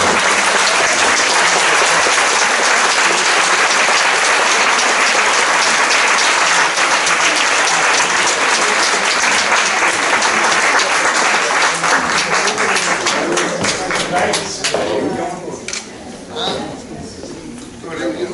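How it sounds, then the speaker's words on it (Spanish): Full audience applause at a fiftieth-anniversary panel event for the film Los caifanes, a long, dense wash of clapping that fades toward the end as voices begin to come through. "Un aplauso para tu papá."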